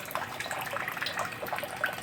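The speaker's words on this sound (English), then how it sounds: "See that stream of water coming out?" A steady stream of water flows from a home water refill station, a soft continuous splashing trickle heard close up with no voices.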